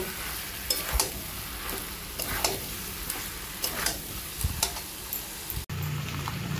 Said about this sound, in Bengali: এঁচড় আলুটাও ভালো করে কিমার সঙ্গে মিশিয়ে কষিয়ে নেব